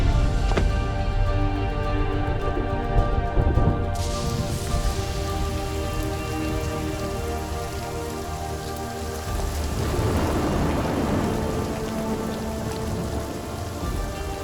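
Heavy rain pours down steadily with rumbling thunder, a dense, close wash of sound lasting throughout with no voices.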